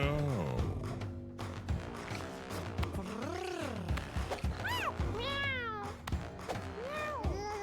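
A kitten in a video game meows several times in rising and falling cries over background game music, with a voice talking intermittently.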